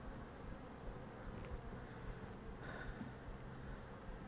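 Agitated honeybees drone in a steady, close, continuous buzz from an opened hive, the hum holding at an even level throughout with no voices.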